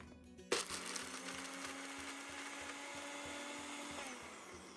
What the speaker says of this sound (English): So let's try to blend this and see what happens.